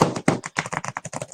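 A deck of cards is shuffled by hand, a close, rapid run of soft flicking and tapping card sounds lasting just over a second.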